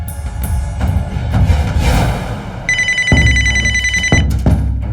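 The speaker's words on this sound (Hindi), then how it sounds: "आपके बॉस का फोन आ रहा है।" A telephone rings with a bright, buzzy electronic trill over a loud, rumbling background, the ring sounding in bursts.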